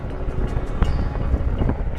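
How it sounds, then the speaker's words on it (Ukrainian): Gusty wind rumbles against the microphone in uneven surges, with a few soft knocks; no talking. "А, знову вітер."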